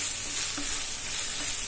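Spices for palak paneer fry in a pan as they are stirred, a steady close sizzle with a faint scrape of the spoon, heard alone in a brief moment.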